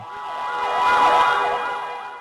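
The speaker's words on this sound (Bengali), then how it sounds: "অ্যাম্বুলেন্স দ্রুতগতিতে ছুটতে থাকে হাসপাতালের দিকে" An ambulance speeds toward a hospital after a deadly incident, its wailing siren rising and falling in a repeated sweeping pattern, swelling louder as it passes close and then fading.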